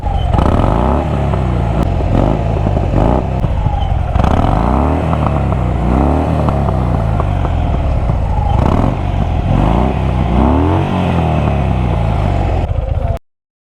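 A Harley-Davidson Fat Bob 1800cc motorcycle's exhaust roars loud and close, revving repeatedly in deep rising and falling surges over a rumbling idle before cutting off abruptly.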